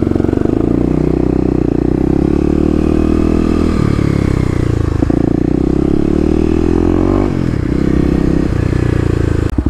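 A Kawasaki KLX dual-sport motorcycle engine runs loud and close, rising through a couple of revs and settling back to a rough idle.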